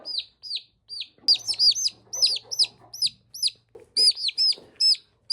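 Baby turkey poults and chicks peep in a steady stream of high, downward-slurred chirps, many birds close together, with a faint low hum and some rustling underneath.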